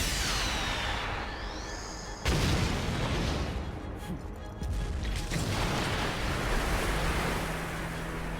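A loud, broad explosion booms in Hyrule Warriors: Age of Calamity, a sudden blast that gives way to a long, rumbling, surf-like roar of debris and noise that continues to the end.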